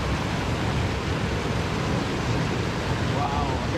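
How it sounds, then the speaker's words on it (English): A roaring waterfall in a wild, moss-covered jungle gorge in Scotland, heard up close as a loud, steady, unbroken wash of rushing water that fills the whole clip. "the roar from this waterfall is so incredible"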